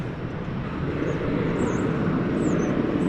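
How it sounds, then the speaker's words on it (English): Jet aircraft taking off at DFW Airport, a loud steady engine roar that swells slightly over a few seconds, heard without talk. "We do have some takeoff activity here."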